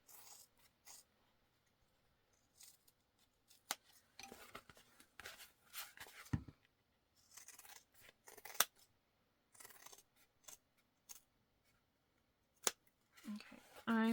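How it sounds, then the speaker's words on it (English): Scissors snip through the sewn fabric seam allowance of a wristlet, trimming it close with a scattered series of short, crisp cuts at close range, some quick clusters and brief pauses, with speech heard between them. "now we trim this down to 1/8 of an inch"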